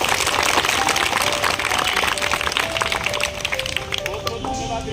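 Audience applause at a school prize distribution ceremony honouring toppers, a dense steady roar of clapping from a crowd, with a voice speaking over it.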